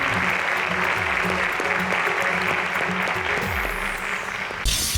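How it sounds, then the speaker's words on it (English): Loud, dense applause from a crowd, steady throughout with no pauses. "please, a round of applause to Bukola and to Ebuka"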